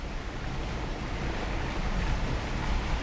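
A 2023 Honda HR-V pushes through a water crossing on a mountain off-road trail, giving a steady, dense rush of splashing water and wind-like noise with no break and no speech.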